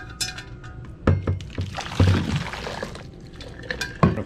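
Preheating water is dumped out of a thermos, with clinks and knocks of the metal flask and a splash of pouring liquid, in short, close bursts.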